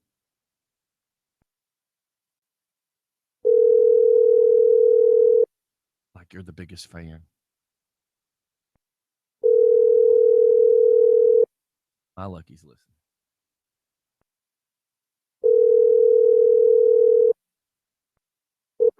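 Telephone ringback tone heard while a call is placed during a morning radio show: three long steady buzzing rings about four seconds apart, loud and clear, with brief talk from hosts in the gaps between rings.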